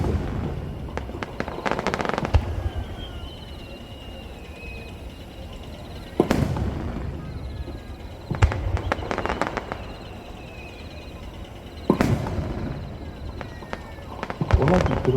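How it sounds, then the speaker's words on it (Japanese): Fireworks burst loudly at a Japanese fireworks festival at Nagashima Onsen, with three sharp booms each followed by dense crackling that fades between bursts. "同じプロセットでもバリバリと音を立てながら晴れる。"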